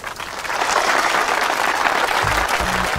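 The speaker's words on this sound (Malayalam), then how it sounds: "കയ്യടി നടത്താൻ പറയൂ." A crowd claps steadily and densely for about three seconds, with no voices over it and a brief low thump near the end.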